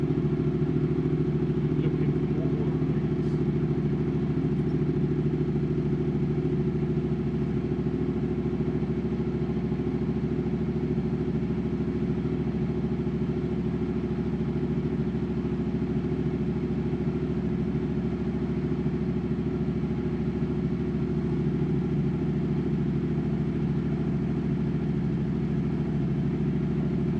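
A Yamaha MT-07 fitted with a turbo runs for the first time after a build, settling into a steady, droning idle with a constant low hum and faint mechanical clatter, no talking.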